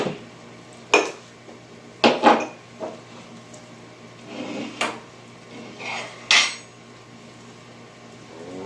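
Utensil scrapes and clanks against a pan while mushrooms are stirred for mushroom tikka masala, coming in a few sharp, irregular knocks and scrapes with quieter gaps between them, close by and with no talking.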